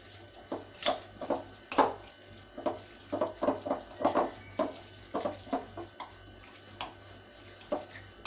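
A spoon stirs a fish filling with spices and oil in a bowl, giving a string of soft, irregular scraping taps against the bowl, close and fairly quiet.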